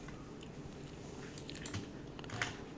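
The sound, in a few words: typing on a computer keyboard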